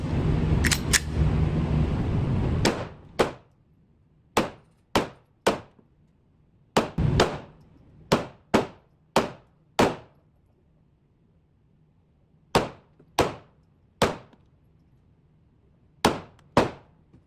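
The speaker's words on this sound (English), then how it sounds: "we're gonna shoot the Glock now and cut the SpongeBob" Glock pistol shots hitting a SpongeBob target: about fifteen sharp, loud cracks ring out one at a time with short gaps between them, after a brief burst of rumbling noise at the start.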